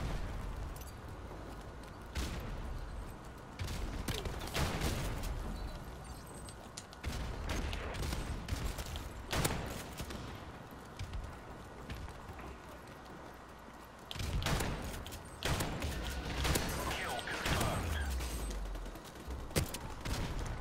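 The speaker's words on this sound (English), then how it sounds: "I just got like a triple kill with the shotgun" Shotgun blasts in Call of Duty Modern Warfare Remastered come as repeated sharp booms spread across about twenty seconds, several in quick clusters, over faint game background noise.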